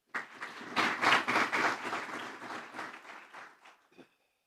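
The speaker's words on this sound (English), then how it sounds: "Can I have a round of applause for this?" Applause in a parliament sitting, a burst of many hands that swells quickly, holds for a few seconds and then thins out to a few last claps.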